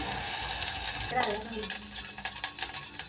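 Oil poured into a hot pan for a tomato, onion and garlic gorikayi gravy, giving a steady broadband sizzle with scraping and stirring noises, close and fairly loud throughout with no talking.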